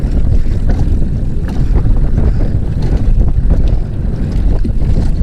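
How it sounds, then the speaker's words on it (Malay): Strong, steady wind roars and buffets the microphone outdoors during a kayak fishing trip in Malaysia, with a continuous low rumble and gusts, and no voices. "Oh, kuat angin"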